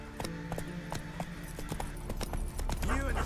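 Roach the horse gallops in The Witcher 3, quick rhythmic hoofbeats pounding steadily at close range over a low ambient bed, with a short snort or whinny near the end.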